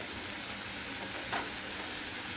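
Ground masala paste goes into a pan of frying tomatoes, with a soft, steady sizzle throughout and a brief rustling burst midway, faint and without voices.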